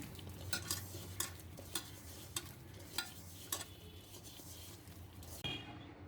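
Onion, green chili, salt and turmeric being hand-mixed for a puti fish chorchori, soft squelching and scraping with a series of light clinks against a bowl, faint and close, no talking.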